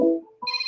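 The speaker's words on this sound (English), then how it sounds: "to cut the phone off because it's ringing" A telephone rings in short electronic tones, loud and close, with a brief pause between bursts and no talk over it.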